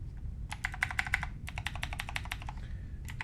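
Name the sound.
typing on Nanoxia Ncore Retro aluminum keyboard keys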